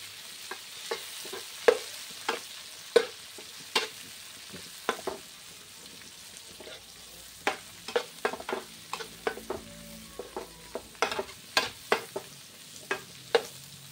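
A spatula scrapes and taps in a sizzling pan of green and red chilies with onions, steady frying hiss underneath irregular stirring strokes, close up.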